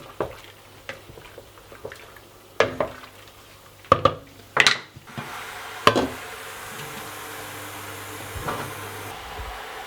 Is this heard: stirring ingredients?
yes